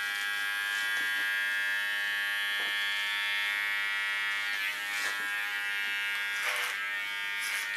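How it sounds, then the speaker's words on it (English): An electric hair clipper buzzes continuously and close up during a punk haircut, a bright steady whine with slight shifts in pitch as the blades move along the head. "Don't lean so hard on the clipper blades because that irritates the skin."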